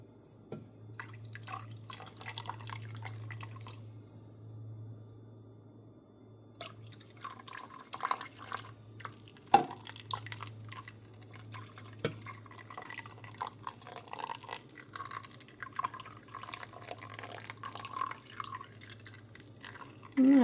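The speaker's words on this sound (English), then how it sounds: "I'm going to slowly add the vinegar. I've got a half a cup right here, and add it slowly." Vinegar poured slowly into milk for farmers cheese gives soft, faint trickling and dripping in a quiet kitchen, with occasional light clinks of glass and a low steady hum underneath.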